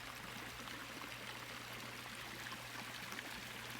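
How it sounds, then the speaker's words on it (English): Water splashes and trickles in a constant, even rush, like a small cascade into a pool, with a low hum underneath and no voices. "Up here, we have a waterfall."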